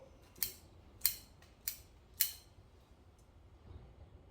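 Pruning shears snipping a low branch on a small tube-stock Australian native bonsai, four crisp close cuts spaced about half a second apart, then near quiet.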